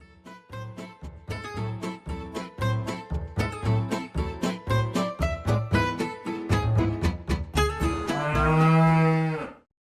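Cows moo in a long series of loud, close lowing calls, many short and overlapping in a steady rhythm, ending in one long drawn-out moo.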